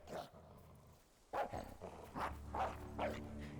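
A dog in the video game Fable III barks and growls in several short bursts, an isolated yelp first and then a cluster of close, fairly loud barks, with no speech.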